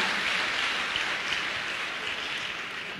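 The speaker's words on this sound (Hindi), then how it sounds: "उनके लिए एक बार जोरदार तालियां" An audience gives sustained applause for a Global Diamond Director at a business gathering, a dense, even clatter of many hands throughout.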